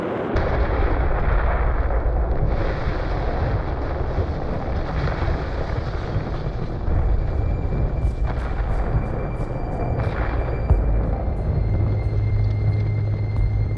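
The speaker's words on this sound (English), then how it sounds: "Liftoff." A rocket lifts off to launch an early transistorized satellite, giving a continuous loud, broad roar and rumble that stays steady throughout, with deep low-end power and no talk.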